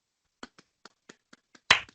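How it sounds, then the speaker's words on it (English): Hand claps, about seven sharp separate claps spaced unevenly, mostly light, with one louder final clap followed by a quick softer one, close and alone in a quiet room. "I'm clapping in case anybody can't hear that."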